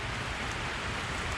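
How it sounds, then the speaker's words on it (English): Steady rain during a stretch of wet, windy California weather hisses evenly and softly for a short moment, a continuous wash of drops with no talking. "Been windy, rainy."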